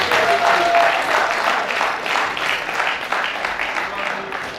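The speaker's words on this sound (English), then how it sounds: "Let's give her another round of applause." Audience applause at a crop production training session for the resource person, a steady round of many hands clapping that gradually thins out, with faint voices mixed in underneath.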